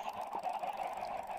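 Brief clucking of chickens in the Minecraft video game, a short quiet burst of bird calls with nothing else alongside.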